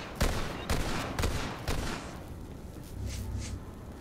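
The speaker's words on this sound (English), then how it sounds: "I'm accidentally shooting an enemy behind you" Gunfire in Borderlands 3, four loud, evenly spaced blasts about half a second apart, each with a booming tail, followed by fainter distant pops.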